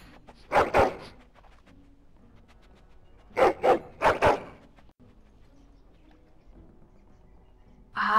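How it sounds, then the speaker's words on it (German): A dog in the video game Dragon Age: Origins barks in two loud, close bursts of two to three quick barks each, separated by quiet background, with a brief further sound at the end. "du bist ein feiner, oh ja, braver Hund"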